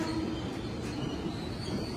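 A KRL commuter train enters a Jakarta-area station at morning rush hour with a steady mid-level rumble and a faint high wheel squeal running through it.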